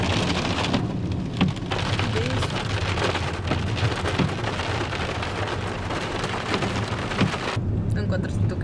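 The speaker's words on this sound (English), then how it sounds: "It is starting to rain." Rain falls steadily and densely, pattering on surfaces close by, with a constant wash of drops and a few louder taps throughout.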